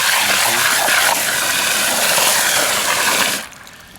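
Water spills out in a loud, steady rush while lye-soaked corn is rinsed, then cuts off abruptly near the end.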